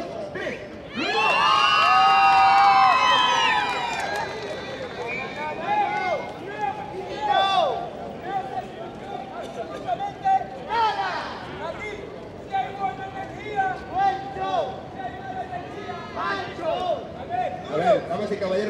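A street theatre crowd in Madrid bursts into loud, sustained shouting, whooping and cheering on cue, peaking early and then continuing as dense excited crowd noise with children's voices mixed in.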